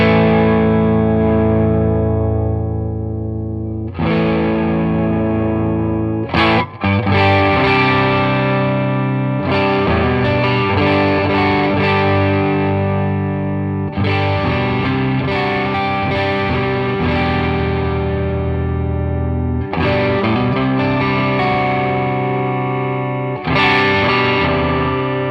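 Electric guitar driven through an overdrive pedal, Boss OD-1, SD-1 or Ibanez TS808/TS9 style, with the tone knob being adjusted, playing loud sustained distorted chords and riffs in several phrases separated by brief pauses.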